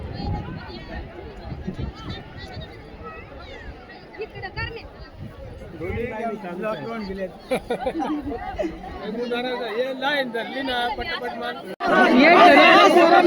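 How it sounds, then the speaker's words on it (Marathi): Crowd chatter at Shirpunje Bhairoba temple near Ghanchakargad in Akole taluka, a steady babble of many nearby voices with footsteps and movement, growing louder and denser toward the end. "गर्दी आहे."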